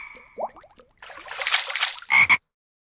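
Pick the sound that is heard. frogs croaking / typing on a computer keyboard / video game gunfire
frogs croaking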